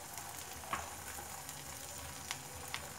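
An egg fries in a pan with a soft, steady sizzle and a few faint clicks, quiet and close.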